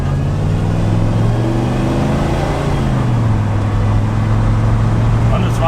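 Engine of a 1990s Ford OBS pickup truck running steadily under throttle at road speed, a continuous loud drone with slowly shifting pitch and someone talking over it.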